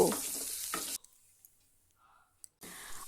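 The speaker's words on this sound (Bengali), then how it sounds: "একইভাবে আলুগুলোকেও ভালোভাবে নাড়াচাড়া করে লাল করে ভেজে নেব।" Large potato chunks sizzle loudly while being stirred in a pan for a fish curry; the hiss cuts off into near silence with a few faint clicks, then the frying resumes.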